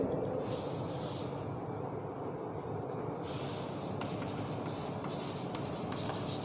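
Chalk or marker scratches across a board during a biology class, a steady rasping stroke pattern running throughout, with a few louder hissing strokes near the start and middle.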